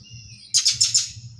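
Birds chirp in the trees on a humid morning. A quick burst of three or four bright tweets rises over a faint high call and a low background hum, and no voices are heard.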